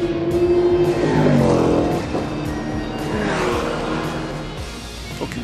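Porsche race car rounding the final corner at Paul Ricard circuit during a race, a loud continuous engine roar that rises and falls as it passes, with a faint tyre squeal.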